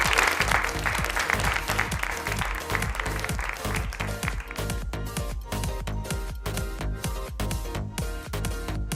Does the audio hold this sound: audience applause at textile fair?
yes